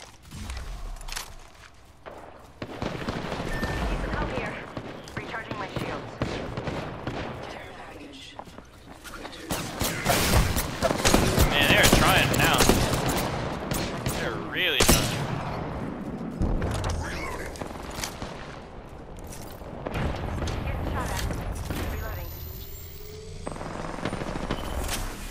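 Apex Legends Arenas firefight: scattered bursts of gunfire, impacts and mechanical clatter rise and fall across the stretch, with footsteps and game effects mixed in and voices talking at moments.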